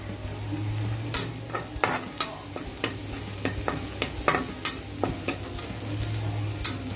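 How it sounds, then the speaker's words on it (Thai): Garlic frying in oil on a gas stove, with a steady sizzle and a run of sharp spatula scrapes and taps against the pan at an uneven pace, close and fairly quiet. "เดี๋ยวเราจะเจียวกระเทียมก่อนนะคะ"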